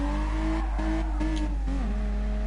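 A race car drifts in the Gran Turismo Sport video game, its engine droning loudly with rising and dipping revs while the tires squeal in sustained bursts through the slide. There is no talking.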